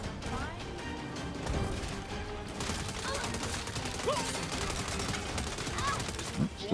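Shotgun fire and chaotic combat in Saints Row 2: repeated gunshots and crashing impacts pile up over a busy game soundscape, moderately loud and continuous, with talk layered over the action.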